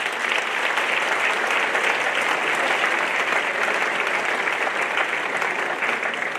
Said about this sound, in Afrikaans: Ek dink ons kan 'n groot klap daarvoor gee.